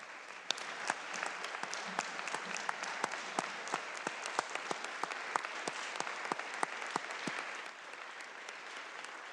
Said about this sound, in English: Can we give Tiffany a round of applause?